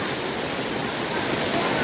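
Floodwater rushes through a residential street during Typhoon Carina, a steady, dense roar of churning water that stays loud and unbroken throughout, like a river, with no clear voices.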